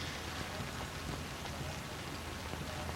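Steady rain falls throughout an outdoor town festival parade, a continuous broadband hiss of drops at moderate level with no voices.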